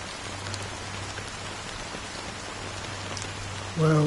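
Steady rain patters on a surface in Honkai Star Rail, a continuous soft hiss with a low hum underneath, and a brief louder tonal chime near the end.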